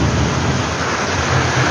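Steady heavy rain pours throughout with a low rumbling underneath, like distant thunder rolling beneath the downpour.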